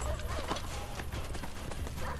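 A horse gallops in the video game Assassin's Creed Brotherhood. Quick, rhythmic hoofbeats clop steadily for a brief stretch at moderate volume, with a faint whinny-like tone in the mix.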